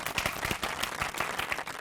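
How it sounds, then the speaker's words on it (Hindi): Studio audience breaks into applause at a comedy award show, a dense wash of many hands clapping steadily and fairly loud for the full two seconds, with no voices over it. "तालियां!"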